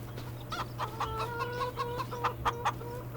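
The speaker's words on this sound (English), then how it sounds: "Chickens are starting to lay eggs." Farm chickens in the Farming Simulator 25 video game cluck in a busy run of short, close, repeated calls over a low steady hum, with no talking.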